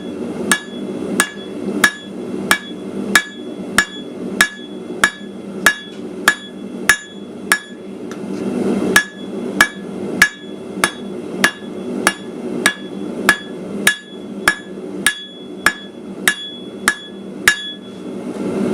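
Ringing hammer blows fall on a metal holly stem being drawn down to a taper, a steady, evenly paced series of bright close strikes with no talk.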